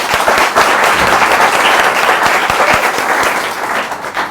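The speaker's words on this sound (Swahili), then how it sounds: "wapi makofi yake?" Audience applause in a Kenyan TV talk show studio, dense and steady for several seconds at full loudness, with sharp individual claps poking through the sustained roar.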